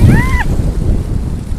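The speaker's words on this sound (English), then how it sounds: "it's very windy" Strong wind buffets the microphone outdoors, a loud steady low rumble that persists throughout with slight gusty swells.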